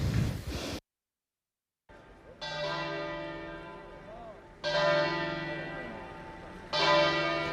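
Church bells toll at a funeral in the town of Anguillara Veneta, several slow resonant strikes ringing out after a brief silence, each decaying gradually, with a few faint breaths nearby.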